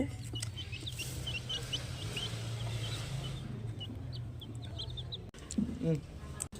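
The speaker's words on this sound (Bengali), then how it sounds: "এখানে দুটো মুরগির বাচ্চা আছে।" Two chicken chicks cheep in quick, high-pitched peeps, scattered and fairly faint over a low background hum and a brief rustle near the end.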